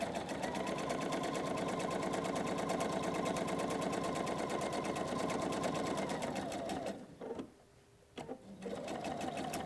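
A sewing machine runs in a fast, steady whirring stitch as it sews rows of a Hunter Star quilt together, pausing briefly twice near the end before starting up again.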